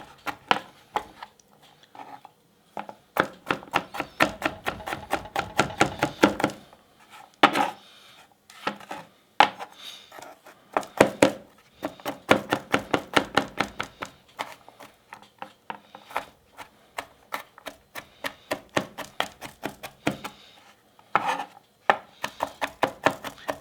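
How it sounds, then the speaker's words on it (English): A knife mincing garlic cloves on a wooden cutting board for Mexican street tacos, with fast rhythmic chopping bursts broken by short pauses, close and crisp with no talking. "we're going to mince the garlic cloves"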